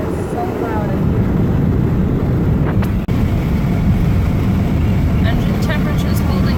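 Loud road noise fills a car driving with its window open and the air conditioning switched off, a constant heavy rumble and wind roar with a brief dip midway.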